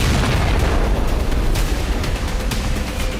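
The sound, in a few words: explosions at Al Hudaydah port from Israeli strikes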